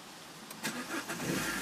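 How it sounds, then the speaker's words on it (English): A petrol Peugeot 207cc GT convertible cranks briefly and catches, then settles into a quiet, steady idle, heard alone at a low level. "so no problem starting the car at all."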